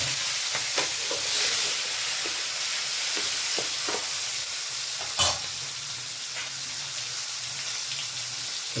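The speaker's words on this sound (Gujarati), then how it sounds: "ટમેટા મરચાંનો વઘાર માર્યો ફર્સ્ટ ક્લાસ" Tomatoes and chillies hit hot tempering oil with mustard seeds and asafoetida while masala Maggi is being made, giving a continuous bright sizzle with scattered pops and a few sharp utensil clinks, and no talking.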